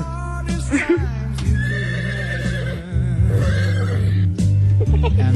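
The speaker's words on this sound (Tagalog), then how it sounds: "may kabayo." A horse whinnies loudly and repeatedly up close, with long shrill neighs broken by short pauses.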